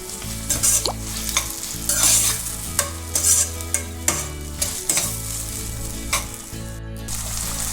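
Vegetables sautéing in a pan for Kumbakonam-style kadappa, with steady frying sizzle and repeated scraping stirs of a spoon against the pan, close and fairly loud, no voices.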